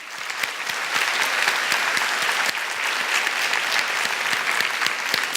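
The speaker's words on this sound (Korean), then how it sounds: "우리 큰 박수." Big round of applause from a church congregation for teachers, dense sustained clapping from many hands filling the room at steady loudness throughout, with no talk over it.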